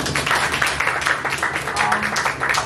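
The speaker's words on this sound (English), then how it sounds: "Can we give one big round of applause for Jordan?" Audience applause at a magazine launch event, a steady dense wash of many hands clapping at moderate volume for a few seconds, with faint voices murmuring underneath.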